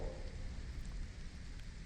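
Steady rain pours down in a dark horror tale, a dense, even hiss with low rumbling underneath, close and continuous throughout with no voices.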